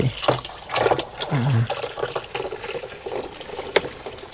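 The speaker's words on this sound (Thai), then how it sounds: "ล้างถ้วยก่อนจึงนึ่งข้าว" Water running from a tap while bowls are washed, splashing and trickling close by with clinks and irregular sloshing bursts, and faint voices in the background.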